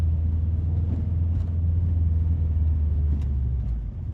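Deep, steady engine rumble from a Subaru STI pulling away, a low continuous drone close by inside the car with faint knocks and rattles over it, no speech.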